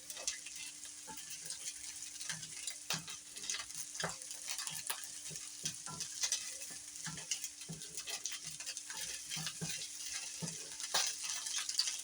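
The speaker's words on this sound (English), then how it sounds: "It almost it's like it's browning up a little bit. You just keep cooking it like so." Corn fries in a pan at home, a soft, steady sizzle broken by irregular scraping taps as it is stirred, quiet and close.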